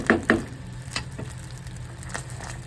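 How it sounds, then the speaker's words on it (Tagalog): Pieces of bullet tuna (tulingan) drop into thick simmering coconut milk with a couple of soft wet plops, followed by quiet bubbling and faint splashes. "Ilagay na natin guys yung tulingan, ha?"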